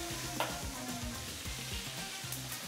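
Beef fillet sautéed in a pan over a strong flame sizzles steadily and fairly quietly, with rhythmic scraping and stirring strokes and a few clinks of a utensil, and no talk.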